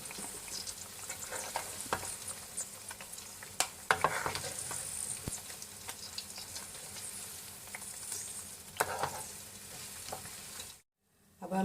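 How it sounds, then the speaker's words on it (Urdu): Chappan kaddu squash frying in a pan on the stove, a continuous soft sizzle with scattered utensil taps and scrapes throughout, cutting to near silence just before the end. "ہم نے اس کو 5 سے 6 منٹ پہلے ہائی چولہے پہ اور پھر اس کے بعد میڈیم فلیم پہ اس کو فرائی کر لیا"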